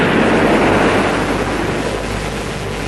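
Sea wind blows in a steady broadband rush by the shore, loud and close, with the roar of surf blending into it and no voices.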